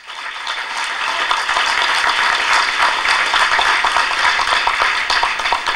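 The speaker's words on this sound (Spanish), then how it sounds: "un aplauso." A crowd at the opening of a continental assembly of Latin American social movements breaks into loud, dense applause that swells quickly and holds strong throughout, with no speech over it.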